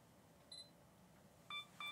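A camera self-timer set to two seconds gives one short high beep, then a pair of brighter double-tone beeps close together near the end, quiet and close in a calm outdoor setting.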